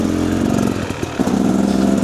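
An enduro motorcycle engine chugs steadily at low revs while greenlaning in rain, a close, continuous rumble with a brief dip and pick-up in throttle.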